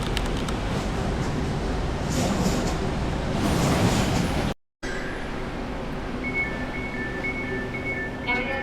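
Riding inside a Manila LRT train car at night, a steady loud rumble and rattle of wheels on rails, followed after a brief cut by quieter rolling with faint high squeals and electronic tones.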